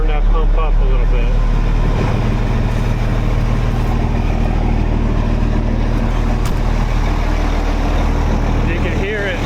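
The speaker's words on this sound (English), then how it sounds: "PTO switch right there, turn that on, make sure it's pumping, you can hear it" A truck's PTO-driven pump runs rough alongside a continuous engine drone, loud and steady for the whole stretch with a low rumbling undertone.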